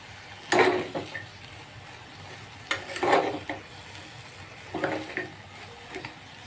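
A spoon scrapes and stirs through vegetable curry in a pressure cooker pot, three distinct bursts of stirring with soft sizzling between them, fairly close and quiet.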